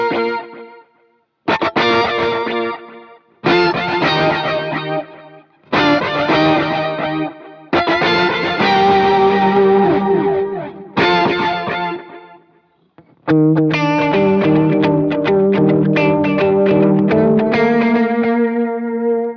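Electric guitar played through a bright, in-your-face dual delay, distorted chords and single notes ringing out in repeated bursts with echoing repeats, separated by brief silences before a longer sustained passage, loud and alone.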